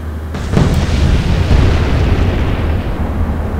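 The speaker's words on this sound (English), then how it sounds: "we got another 2 into them. So it took 4 torpedoes to sink the Z-19" Torpedo strike on the German destroyer Z-19 in the naval game Atlantic Fleet: a loud, close explosion that hits abruptly and then rolls on as a sustained, rumbling roar with no talk over it.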